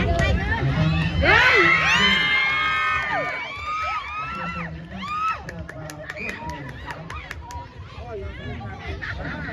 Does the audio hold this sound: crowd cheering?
yes